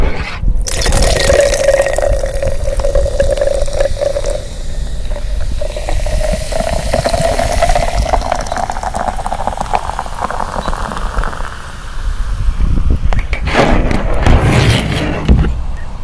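Original Sprite soda pours into a bottle with a continuous hissing, bubbling rush, a faint rising tone running through it, then a brief dip before the fizz surges again.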